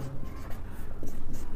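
A pen or marker writes out a maths formula, a Cartesian product A cross B, during a Class 12 lesson: steady scratching and stroking, close and fairly loud, with no speech over it.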